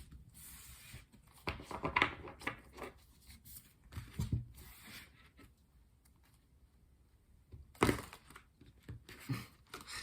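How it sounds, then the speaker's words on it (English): Tarot cards being shuffled by hand, quiet riffling and shuffling bursts in irregular clusters, no talking. "We're going to do some shuffling and pull 7 tarot cards"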